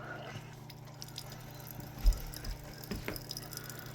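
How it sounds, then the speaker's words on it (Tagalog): Faint drips of water fall irregularly over a low steady hum, with one heavier drop standing out. "O, yun, may tumutulo na."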